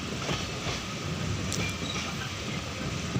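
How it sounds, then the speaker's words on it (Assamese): Steady rumble of the Alipurduar Junction–Lumding Intercity Express rolling into a station, with continuous low mechanical noise, faint metallic squeals and a brief high hiss. "আলিপুৰদুয়াৰ জংশন লামডিং ইন্টাৰসিটি এক্সপ্ৰেস ইজ অ্যাৰাইভিং"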